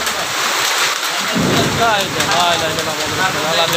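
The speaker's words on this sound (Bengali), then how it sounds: "এই শুরু হয়ে গেছে সেই কালবৈশাখী ঝড়" Heavy rain drives down in a Kalbaishakhi (Nor'wester) thunderstorm as a loud, continuous roar of rain and wind, with a voice talking over it.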